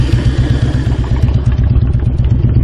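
A 2001 Harley-Davidson Road King engine idles close by with a loud, steady, loping rumble and uneven pulsing beats, and no voices.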